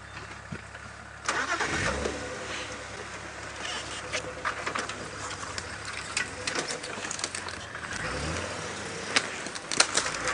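A small safari vehicle's engine cranks and starts, then idles and runs steadily as the car moves off on an early-morning game drive, close and moderately loud with no talk.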